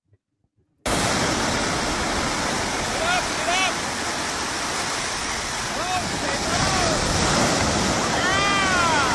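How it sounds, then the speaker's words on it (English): Ocean surf in a surfing setting roars as a loud, continuous wash of noise that starts abruptly after a brief silence. Faint high calls or voices rise now and then above the surf. "the first time Ash ever even got in the water with a surfboard."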